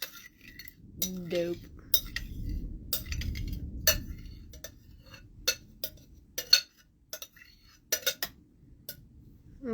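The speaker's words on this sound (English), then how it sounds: "I'm just gonna scrape the rest of this out of here" Leftover tallow is scraped out of a container with a metal utensil, giving quiet scattered clinks and scrapes with irregular gaps, close by, and a brief spoken word.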